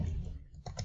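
Quick, soft keystrokes on a computer keyboard, a short run of light clicks at close range in a quiet room.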